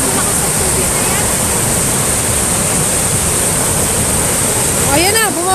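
Strong river current rushing in a loud, steady roar of turbulent water, close and continuous throughout with no pauses; a faint chirping bird call rises near the end.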